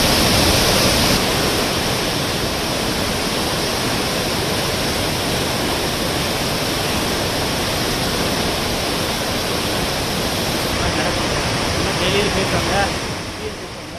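Roaring waterfall at Kalakkad Thalaiyanai in Nellai district, swollen by heavy inflow, a loud, steady wash of rushing water that fills the whole stretch with no pauses before tapering slightly at the end.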